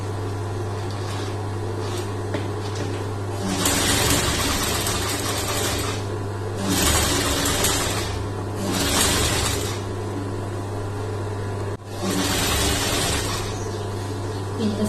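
An electric sewing machine stitches the neck of a churidar top, its motor running in several bursts of fast, steady whirring over a constant low hum, with pauses between runs.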